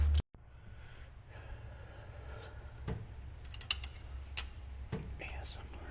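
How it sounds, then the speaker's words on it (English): A ratchet tightens bolts on a turbocharged Honda CR-V engine, giving scattered quiet clicks and metallic creaks over a low hum, with a sharper snap near the middle. "Tightening bolts."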